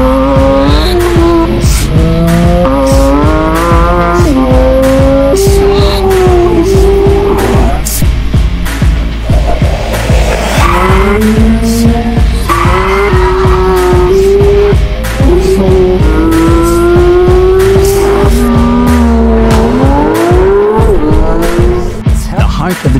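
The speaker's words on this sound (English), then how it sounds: "A high-revving, naturally aspirated engine" A 2025 Porsche 911 GT3 (992.2) naturally aspirated engine screams continuously at high revs, pitch climbing and dropping through gear changes, with faint tire squeal under the constant roar.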